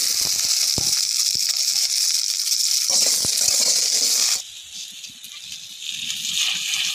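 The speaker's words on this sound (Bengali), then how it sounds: "তেল দিলাম" Cooking oil hits a hot pan on a stove, giving a loud, steady bright hiss and sizzle that drops suddenly partway through, then continues more quietly.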